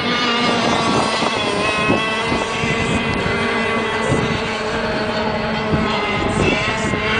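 Several racing motorboat engines drone steadily across open water at a race in Dessau, a continuous buzzing roar with shifting pitch as the boats race, plus light wind buffeting the microphone.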